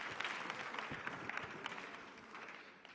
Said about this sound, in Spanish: un aplauso a Criski